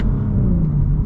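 A stock 2023 Audi S4 accelerates with a steady, loud low engine rumble that holds evenly for about a second, with no voices.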